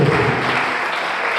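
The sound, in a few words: congregation applauding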